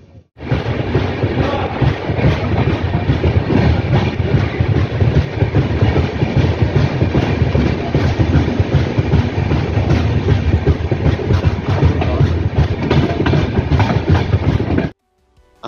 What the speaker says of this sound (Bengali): এইভাবে ট্রেনের দরজায় দাঁড়িয়ে যেতে বেশ মজাই লাগে